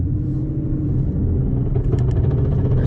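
A car with a BC Stage 3 transmission cruises at speed, a continuous low engine and road rumble heard up close, with some faint clicks and rattles toward the end.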